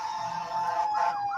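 An ambulance siren sounds steadily as it passes by, a loud wailing tone that holds through the moment and shifts slightly near the end, with no talking over it.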